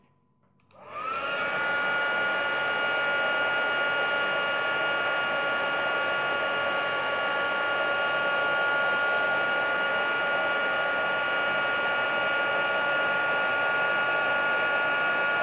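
A heat gun switches on after a brief quiet moment and blows a loud, steady stream of air with a high whine, running close and unbroken, heating embossing paste.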